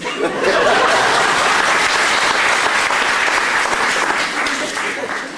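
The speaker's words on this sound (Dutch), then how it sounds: "Mag de drummer een applaus?" A theatre audience at a folk comedy show applauds the drummer, loud sustained clapping from a crowd close by that holds steady and fades slightly at the end, with a little laughter mixed in.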